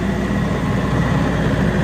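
Multiquip Whisperwatt DCA25SSIU4F generator from 2016 idling, a smooth, steady low engine hum heard up close and alone.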